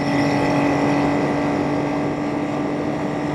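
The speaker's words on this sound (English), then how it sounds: "this is the Trident fabulous sound" A Triumph T160 Trident motorcycle engine runs steadily with a dense, throaty drone and a constant pitch, close and fairly loud throughout.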